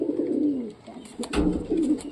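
A pure Dhanyabala pigeon coos low and near, throaty rolling calls in two bursts separated by a short pause, with a few soft knocks in between.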